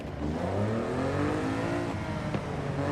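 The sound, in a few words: car engine revving in video game Forza Horizon 5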